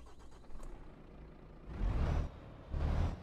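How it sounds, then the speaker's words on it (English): A Volvo FM Classic truck engine starts up in Euro Truck Simulator 2, a low rumble swelling twice after a quiet hum, moderately loud and unaccompanied. "I'll start it up and see what it sounds like."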